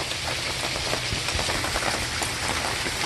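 Steady, dense rain pattering on an RV awning, a constant close hiss of drops with no break and no voices.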